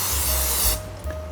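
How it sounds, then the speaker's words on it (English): Cooking spray is sprayed onto cake pans lined with parchment paper, a loud close hiss lasting about half a second before it cuts off, followed by a brief softer puff. No one speaks. "Spray them and set those aside."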